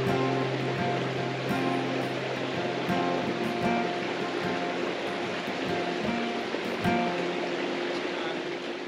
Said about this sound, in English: Squidly and I got back to Sipsey Fork Creek.